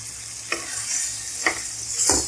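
Peshawari namkeen gosht, salted meat with green chillies and coriander, sizzles steadily in a pan while a spoon scrapes through it three times in an even stirring rhythm.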